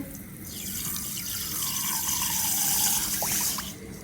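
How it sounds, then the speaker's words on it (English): Milk and sugar poured into a pan, a soft continuous liquid splash and trickle lasting a few seconds, quiet and close. "In the pan, I'll go ahead and add my milk and the sugar"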